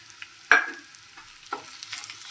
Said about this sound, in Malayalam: ഇനി നമുക്ക് നമ്മൾ ഗ്രേറ്റ് ചെയ്ത് വെച്ചിരിക്കുന്ന മത്തങ്ങ കുറച്ച് ചേർത്ത് കൊടുക്കാം.